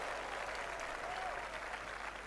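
Golf gallery at St Andrews Old Course clapping for a Rory McIlroy shot during a skins match against Rickie Fowler; a steady, distant wash of applause filling the whole moment, fairly faint.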